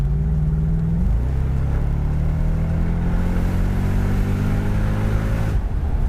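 A Mercedes SL55 AMG R230 with its five-speed automatic transmission in sport mode accelerates hard. The engine drone climbs steadily, with clear upshifts near the start and the end, heard close up from inside the car.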